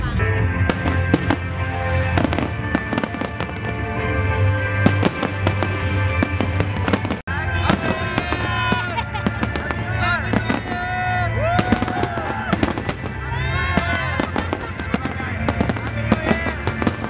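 Fireworks display at a Philippine international pyromusical competition in Pampanga: continuous dense bursts and crackles over music for the whole stretch, loud and close, with crowd noise and talk mixed in.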